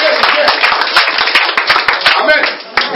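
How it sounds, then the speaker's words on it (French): A church congregation claps together for Jesus in a lively, steady burst of applause, loud and close, with voices mixed faintly into the clapping. "On acclame Jésus."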